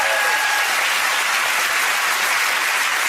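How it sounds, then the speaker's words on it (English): A studio audience at a British comedy quiz show breaks into steady, dense applause that stays loud and even throughout, with no voices standing out above it. "Round of applause, I think."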